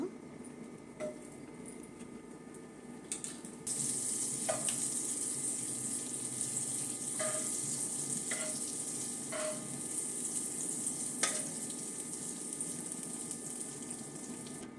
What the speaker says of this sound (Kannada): ಈ ಥರ ಒಂದು ಪಾನ್ ಇಟ್ಕೊಂಡಿದ್ದೀನಿ ನಾನು ಇದಕ್ಕೆ ಬಟರ್ ಹಾಕ್ತಾಯಿದ್ದೀನಿ ಒಂದು ಸ್ವಲ್ಪ